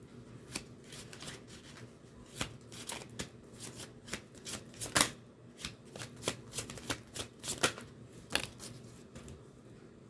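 Tarot cards shuffled by hand up close, a steady run of crisp riffling slaps and flicks in irregular bursts, fairly quiet and with no voices.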